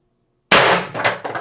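An IntruBuster Gen 2 CO2 launcher with a 4x12g CO2 stock fires a single 8-gram round after silence: one sharp, loud, close pop with a brief metallic ring trailing off.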